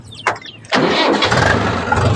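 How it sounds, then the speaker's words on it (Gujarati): A farm tractor engine cranks with a brief whir and then catches, settling into a loud, close, steady running rumble. "આપણે વાડે આવતા રહી છીએ ટ્રેક્ટર લઈને"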